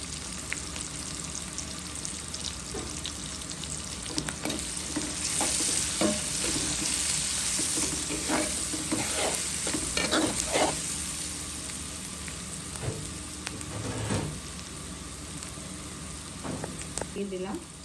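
Chili powder sizzles in hot oil while being stirred for a quick tomato chutney, a steady frying hiss broken by repeated scraping stirs, with a little speech at times.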